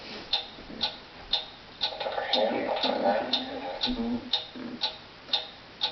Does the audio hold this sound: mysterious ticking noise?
yes